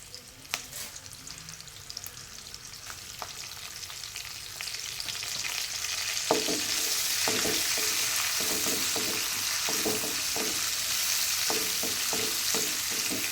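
Curry leaves drop into oil already holding onion, cardamom, cinnamon, cloves, black pepper and fennel seeds; a moderate sizzle swells into a loud, dense crackle, with repeated scraping stirs punctuating it up close.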